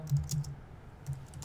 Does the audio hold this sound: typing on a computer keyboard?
yes